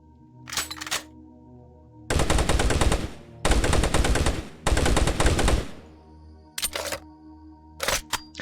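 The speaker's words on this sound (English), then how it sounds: "Doom 3 shotgun. One of the most hated shotguns in all of gaming." Doom 3 shotgun firing in an Unreal Engine game: several loud, close blasts, each a sustained burst lasting about a second, separated by short clicks and mechanical reload sounds, with no talk.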